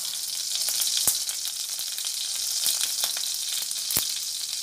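Butter and oil sizzle steadily in a hot pan for tempering kadai paneer, a dense bright crackle with a few sharper pops, close and continuous with no talking.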